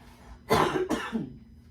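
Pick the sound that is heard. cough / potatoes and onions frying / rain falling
cough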